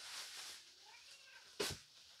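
A cat playing near a Kinder Egg, giving one short, faint meow near the end over a quiet room background with soft rustling.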